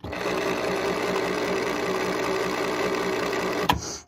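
A Singer Touch & Sew II Model 775 sewing machine runs steadily with the pedal pushed and no needle fitted, a loud, close, continuous whir for about four seconds, then a brief clunk as it stops.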